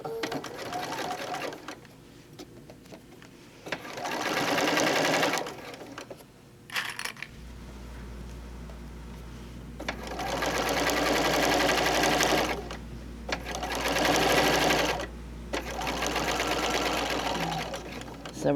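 Home sewing machine stitching a fabric microwave bowl cozy with the stitch length set around 3.5, running in several steady bursts of rapid mechanical whirring with short pauses between, close and loud.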